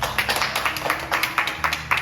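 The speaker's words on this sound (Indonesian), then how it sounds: "Kasih tepuk tangan dulu untuk mereka berdua." A class claps for two students, a quick run of uneven close hand claps over about two seconds.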